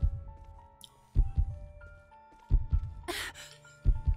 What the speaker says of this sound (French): Le battement de cœur.